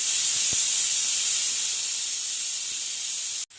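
Steady loud steam hissing from a pressure cooker as its whistle is lifted off while cooking peas kushka rice, a continuous broadband rush that cuts off abruptly near the end.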